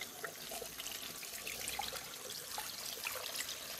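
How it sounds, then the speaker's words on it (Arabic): Water pours steadily into a cooking pot over meat for a raisin and pineapple dish, a continuous close splashing trickle with no talk over it. "نحطوا الماء قد ما يغطينا اللحم"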